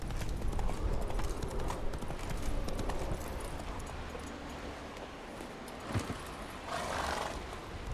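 Horse hooves clip-clop steadily through The Witcher 3, a loud, continuous rhythmic trot with ambient game sounds and a brief whinny-like cry near the end.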